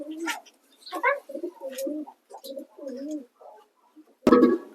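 Several soft, close pigeon coos in a loose sequence, ending with a sudden louder burst of noise.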